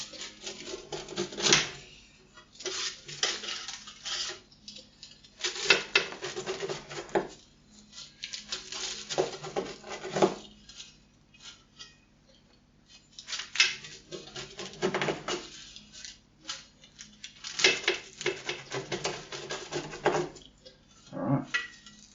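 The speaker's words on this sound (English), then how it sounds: "so to cut a square pizza, pretty much just do the same as a round one." A knife or cutter works through a square pastry-sheet pizza, making repeated scraping, tapping strokes against a board in uneven bursts with short pauses, close and moderately loud with no talking.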